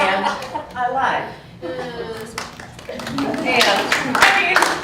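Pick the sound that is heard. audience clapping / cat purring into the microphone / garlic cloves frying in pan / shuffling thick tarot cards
audience clapping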